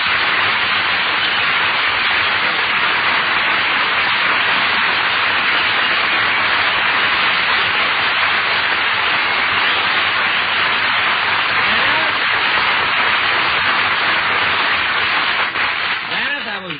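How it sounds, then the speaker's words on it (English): Studio audience applause on a old-time radio comedy show, a dense, steady wash of clapping that fills the whole stretch at full loudness, alone without voices and tapering slightly at the end. "applause"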